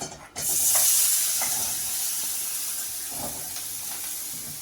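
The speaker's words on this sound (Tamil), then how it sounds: "நெய் சூடானதும் நம்ம பருப்பு சேர்த்திக்கலாம்" Mashed lentils (dal) hit hot ghee in a heated pan and sizzle with a loud, steady hiss, broken by faint scrapes and stirring clicks as they cook.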